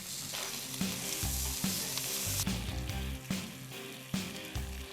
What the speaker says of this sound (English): So I've heated a skillet, and I'll just add a few strips of bacon